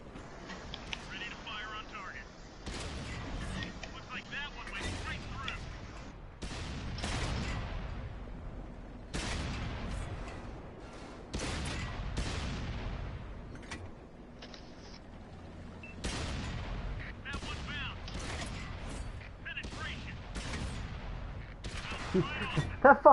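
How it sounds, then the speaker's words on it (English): Tank cannons firing in the console game World of Tanks, with repeated sharp, loud shots spread across the clip, several in quick clusters, over a steady background rumble, with a voice talking now and then. "that Panzer is getting hit by like 30 different tanks"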